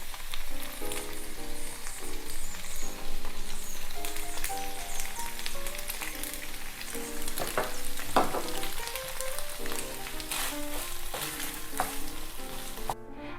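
Cooked pasta tossed with parsley in a saucepan gives a steady sizzle with scattered stirring clicks and scrapes, played continuously under loud background music.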